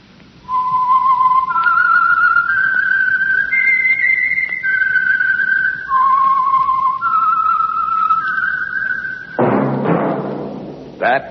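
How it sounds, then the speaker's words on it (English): A melody whistled by one person as the signal for a radio program, clear and close with rising and falling phrases, followed by a short burst of broadband noise at the end. "That whistle is your signal for the Signal Oil Program, The Whistler."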